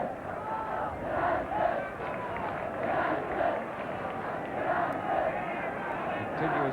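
Football crowd of almost 60,000 chanting "United" in continuous rhythmic waves, a distant massed roar rising and falling steadily, during the 1969 Fairs Cup final between Newcastle United and Ujpest Dozsa.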